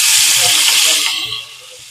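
Butter hissing and sizzling in a hot pan with capsicum while cooking Bihari paneer khurchan, a bright steamy hiss that is loud at first and then fades quickly.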